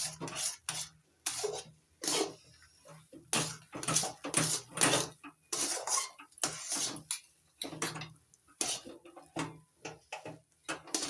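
A dry rice flour dough is mixed and stirred in a pan on a gas stove, giving repeated scraping and clattering strokes of a utensil against the pan in a steady rhythm. The sounds are close and fairly loud.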